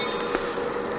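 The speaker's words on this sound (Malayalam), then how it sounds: "ഇതിലേക്ക് നമ്മൾ അരച്ച് വെച്ചിരിക്കുന്ന ആ പേസ്റ്റും കൂടി ചേർത്ത് കൊടുക്കാം. എന്നിട്ട് നന്നായിട്ടൊന്ന് വഴറ്റിയെടുക്കാം." Ground paste and onions sauté in a pan for kuska plain biryani, giving a steady close sizzle with faint stirring.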